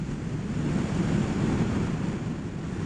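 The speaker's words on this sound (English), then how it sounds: "And the wind is just blowing really, really, really nice this morning." Steady outdoor wind blows hard across a microphone on a morning motorcycle ride in open ranch country, a broad continuous low rumble with no talk over it.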